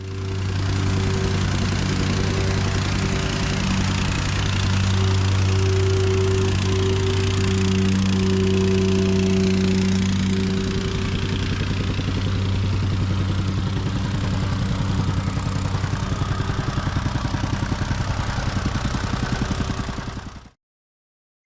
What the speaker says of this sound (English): watering the road base, and then hitting it with the plate compactor